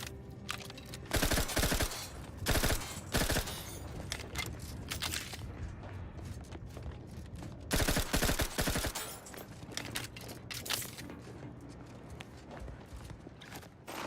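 Gunfire in Outer Worlds 2 from assault rifles, shotguns and SMGs: several loud bursts of rapid shots arrive in clusters over a quieter background of movement and game ambience, with no talk.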